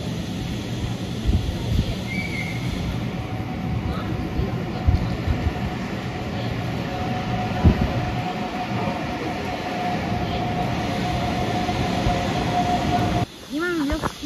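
An Intercity train passes through Warsaw with a loud, sustained rumble and rolling rail noise across the whole stretch, ending in a high, wavering squeal as it goes by.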